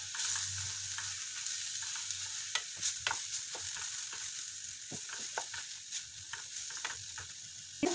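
Spoon stirring pizza masala mixed with ketchup in a hot pan on a tawa, steady sizzle with scraping strokes and clicks, close and alone.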